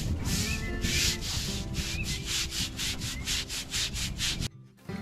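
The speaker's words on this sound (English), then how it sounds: "our first action was to wet the stones and scrape away the lichen with plastic putty knives" Plastic putty knives scrape lichen off wet grave stones in quick, rhythmic strokes, close and raspy, repeating steadily before stopping abruptly near the end.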